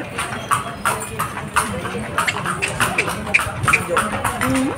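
Horse hooves clip-clop on a street in Vigan, a steady rhythmic clatter of a carriage horse close by, with people talking over it.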